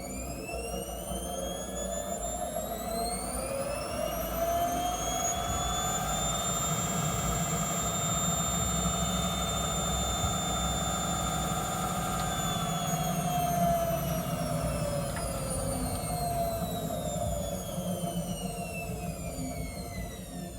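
A hotwired Matsui washing machine motor runs steadily, its whine rising in pitch as it spins up, holding a sustained tone, then sliding down near the end, loud and close with no talking.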